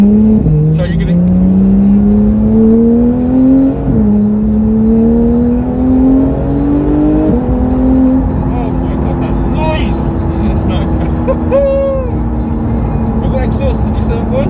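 Porsche 911 GT3 naturally aspirated engine through a Sharkworks exhaust, heard from inside the car as a loud steady drone rising through the gears with shift dips, while people talk over it.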